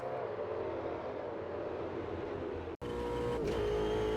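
An Ultima GTR engine drones steadily from the cockpit while driving on a track in the Automobilista 2 racing game, a constant hum that cuts out for an instant and then resumes at a slightly higher pitch.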